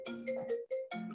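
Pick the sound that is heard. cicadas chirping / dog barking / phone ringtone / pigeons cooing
phone ringtone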